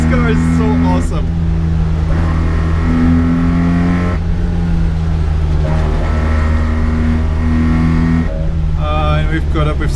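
A 1980 Mitsubishi Minica drives at speed, its small engine holding a loud, steady drone with pitch shifts as revs change, and a voice talks over it in the car.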